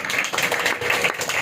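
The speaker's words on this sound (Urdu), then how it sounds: "زور سے تالیاں خدا کے جلال کے لیے" A church congregation claps loudly together, a dense, fast patter of hand claps filling a short stretch with no talk.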